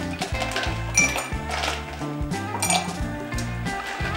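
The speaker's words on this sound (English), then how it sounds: "Set that down, grab some ice." Ice cubes clink and rattle against a glass mixing vessel for a gin martini, a quick close series of bright knocks and chinks.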